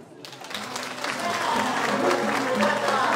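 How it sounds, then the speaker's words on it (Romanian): Wedding guests at a reception in Buzău applaud the couple, clapping building from quiet to a full, steady round with a murmur of voices and faint music underneath. "să-i încurajăm cu un rând de aplauze"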